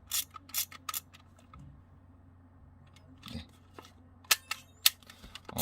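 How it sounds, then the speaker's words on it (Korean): Miranda FG-Z film camera worked by hand: several sharp mechanical clicks and ratchety snaps from the thumb wind lever and shutter release, spaced irregularly across a quiet background, close up. "그냥 썸을 돌리고 셔터 누르고, 썸을 돌리고 셔터 누르고"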